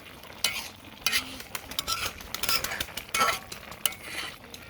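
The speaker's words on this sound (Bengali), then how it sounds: "একটু নেড়ে চেড়ে দিব" A banana stem curry is stirred in a pot as it simmers, with repeated scraping strokes of a spoon over soft sizzling at close range and no voices.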